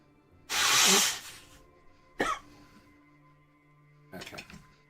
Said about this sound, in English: I gotta blow my nose real bad.